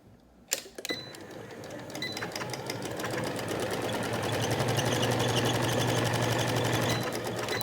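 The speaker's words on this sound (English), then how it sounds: "Just sew rounded along that edge, and then I back stitch at the beginning and at the end." A sewing machine stitches a rounded edge on a washable cloth face mask, starting with a few sharp clicks before settling into a steady, continuous motor whir with rapid needle rhythm, close and fairly loud, no talking.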